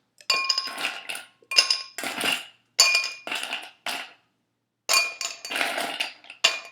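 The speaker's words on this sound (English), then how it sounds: "So we're going to start with ice in a glass." Ice cubes drop into a glass for a root beer float, a close series of bright clinks and clattering bursts separated by brief pauses, with no talking.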